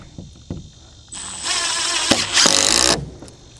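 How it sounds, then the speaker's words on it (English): A power driver sinks wood screws into a barn door built from 1x4 boards, with a few light knocks, then a whirring drive run that rises in pitch and strain before stopping, close and clear with no talk. "These are just wood screws, so I'm gonna just put some in here."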